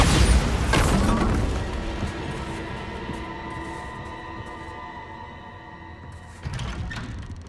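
A Bombarda blasting spell explodes in the Hogwarts Legacy video game on PS5 with a heavy, booming burst that slowly rumbles away, followed by a smaller thud near the end.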